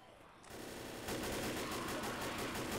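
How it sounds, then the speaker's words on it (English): Rapid automatic gunfire from firearms in the zombie shooter Left 4 Dead, a sustained loud burst of continuous shots that starts after a brief quieter moment and keeps going without a pause. "I don't even know what I was shooting at, but I was just blasting them."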